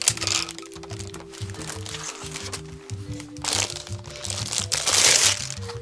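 Crinkly plastic packaging on a magazine supplement, an A Bathing Ape multi-pouch, is handled and torn open, giving repeated crackling crunches under a person talking close by.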